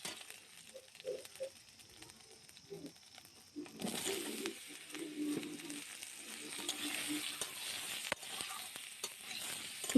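Diced pumpkin added to hot oil with panch phoron and green chilli; a faint clatter at first, then the sizzle of frying swells and holds steady, with occasional stirring clinks.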